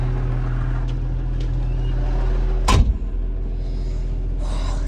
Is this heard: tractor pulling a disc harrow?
yes